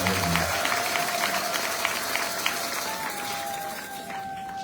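Congregation applause during a Mass led by an archbishop in Cameroon, a dense continuous roar of many hands clapping that fills the church, loud and sustained throughout with a faint tone ringing beneath it.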